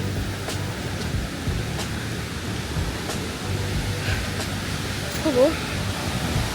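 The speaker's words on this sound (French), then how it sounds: "faire les cascades" Waterfall cascades near a river at a sanctuary in Chiang Mai, a steady broadband rush of falling water filling the scene, with a brief spoken exclamation over it.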